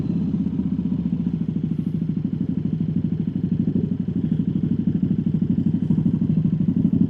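A KTM RC8 V-twin sport motorcycle rides along a seaside road, its engine a steady, throbbing, closely miked drone with a fast even pulse and a slight clatter, with no voices throughout.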